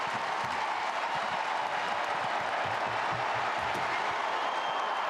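Crowd at an indoor European athletics championship reacting to a long jump, a dense, steady wash of cheering and clapping that fills the hall throughout.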